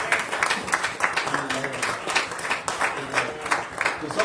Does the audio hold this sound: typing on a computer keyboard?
no